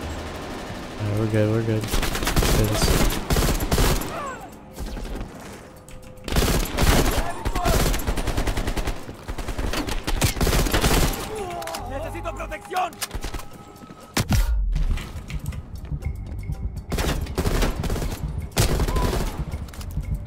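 Enemy gunfire in Call of Duty Black Ops Cold War, rapid bursts of automatic fire and single shots crackling loudly and repeatedly over about twenty seconds, with a player's voice talking between volleys.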